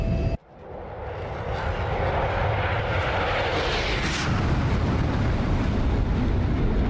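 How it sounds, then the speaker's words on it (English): An F-106 Delta Dart jet in the flight simulator DCS makes a flyby: a loud, broadband roar that swells and holds steady for several seconds after a brief dip at the start, with no voices. "Let's get a flyby."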